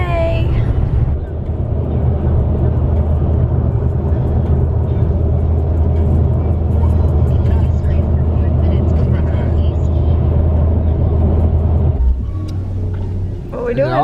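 Inside a moving car on a road trip, a low steady engine and road rumble drones loudly and evenly, with the hum dropping away briefly near the end.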